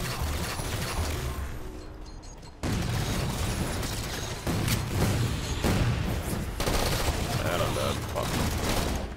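Halo video game combat with rapid gunfire bursts and a grenade explosion, dense and loud throughout with a sharp jump in intensity partway through.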